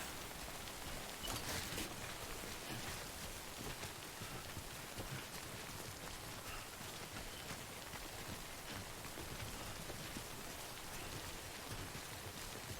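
Steady in-game rainfall, a constant even hiss of drops pattering on surfaces, continuing without letup at moderate volume with no voices.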